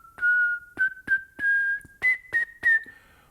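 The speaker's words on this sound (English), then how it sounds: "I'll go off the horn and I'll do a faux whistle." A trumpet player's whistle shows steady airflow off the horn: seven short sustained whistled tones, close and clear, separated by brief breaths, the pitch gliding slightly upward across the phrase.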